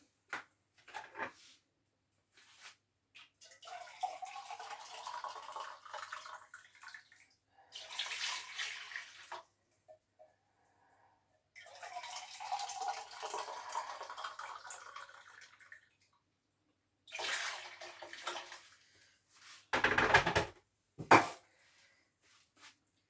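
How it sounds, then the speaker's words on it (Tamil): Hot water is poured into a pot while making thothal, a sweet of urad flour, coconut milk and ghee. Several faint splashing pours come in short bursts separated by quiet gaps, with light clatter of kitchenware. "சுடு தண்ணி விட்டுருக்குது."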